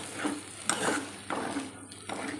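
Beef with coconut pieces frying in a hot, heavy pan for Kerala-style beef ularthu, stirred in steady strokes, with a continuous close sizzle and periodic scraping swishes.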